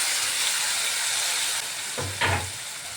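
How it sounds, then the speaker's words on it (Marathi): Steady, loud sizzling of tomato frying in hot oil, with a couple of brief clatters near the end. "तो टाकायचा आणि छान असं परतून द्यायचं"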